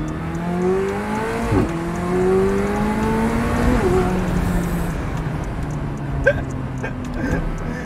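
A McLaren sports car engine drives off, its loud, steady exhaust drone rising through gear changes, with brief sharp bursts near the end and no speech.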